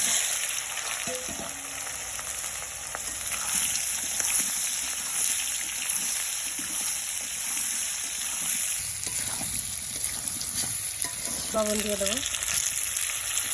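Potatoes with turmeric fry in oil in a kadai, a continuous close sizzle running the whole time with occasional stirring scrapes, and a voice speaks briefly near the end.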